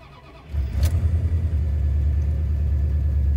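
A 1995 Dodge Ram with a 5.9 Magnum 360 V8 started cold at 35°F: a brief crank, then the engine catches with a loud surge and settles into a steady, deep, rumbling idle close by.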